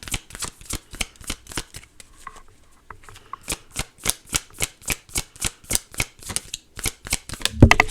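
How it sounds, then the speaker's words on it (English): A tarot card deck is shuffled by hand in a fast, steady run of crisp riffling strokes, close and clear, with no talking. "I can shuffle this deck now"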